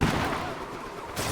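A loud, booming cannon blast from the Donkey Kong Bananza video game, with dense gunfire-like crackle that fills the whole stretch, dips slightly in the middle, then swells again at the end.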